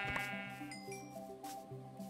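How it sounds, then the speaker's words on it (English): A black sheep in the Minecraft video game bleats in a quavering, tonal call over soft background game sounds. "Oh, black sheep."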